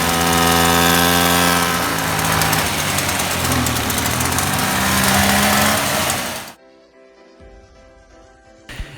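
A Cady engine, running again after carburetor float work, roars loud and steady close by with a harsh buzzing drone, then cuts off abruptly, leaving near silence and a faint mechanical clunk at the end.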